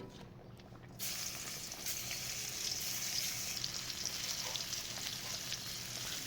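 Bitter gourd frying in a pan at home, a steady dense sizzle that jumps louder after the first second and continues evenly without pause, close up and alone with no talk.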